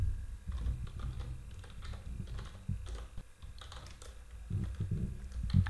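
Quiet, steady typing of Python code on a computer keyboard, a run of soft irregular key clicks, close up, with no speech.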